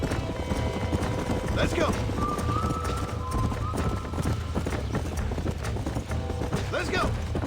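Horse hooves clip-clopping in Red Dead Redemption on a ranch, brisk repeated hoofbeats close by under game dialogue, with a brief whinny and voices speaking over the steady trotting.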